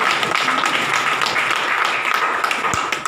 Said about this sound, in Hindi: जोरदार तालियों से हम।